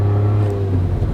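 An Autozam AZ-1 kei car engine revs after a downshift, a steady close drone with a strong low hum that holds for about a second.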